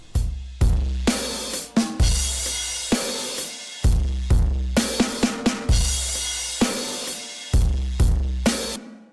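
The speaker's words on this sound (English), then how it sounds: "So I used the Camel Crusher on Annihilate mode" Drums crushed by a Camel Crusher plugin on Annihilate mode pound out a repeating groove, with heavy booming kicks, gritty saturated noise smeared between hits and rapid fills, loud and without voices.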